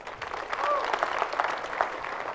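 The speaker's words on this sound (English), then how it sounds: "So give them another round of applause, thank you." Applause from a conference audience at a developer event, a steady wash of clapping lasting a couple of seconds with a voice talking over it.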